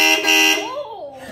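An aftermarket car horn blares loudly for about half a second, then its tone wavers and trails off as the blast fades.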